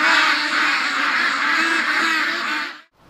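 A dense, loud chorus of quacking ducks nearby in winter, continuous and overlapping, then cutting off abruptly.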